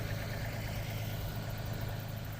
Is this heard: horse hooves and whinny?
no